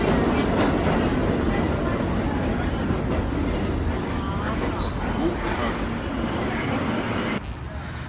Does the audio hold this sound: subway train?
yes